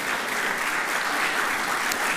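Audience applause at a school Hall of Honor ceremony, a steady, dense clapping from a full room that holds at one level throughout, with no voices over it.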